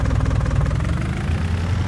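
A 150 HP tractor, an older model in Farming Simulator 19, idles with a steady low, throbbing engine rumble that holds even and close throughout, with no voices.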